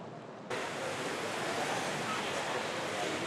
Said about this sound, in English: torrential rain and gusts over 30 miles an hour battered the Solent coastline